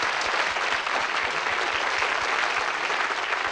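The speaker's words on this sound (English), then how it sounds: "Give them a round of applause, folks." A television studio audience at a 1979 game show applauds in a sustained, even wash of clapping that fills the room without pause.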